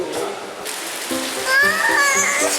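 Steady rain falls as a constant hiss, with someone speaking over it and other voices nearby.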